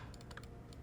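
Computer keyboard typing during a League of Legends game, quick scattered key clicks at low level under a steady background hum.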